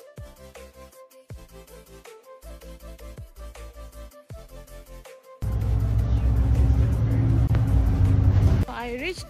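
A city bus ride: a person speaks first over a tonal background, then a loud, steady rumble of engine and road noise takes over for several seconds before easing slightly.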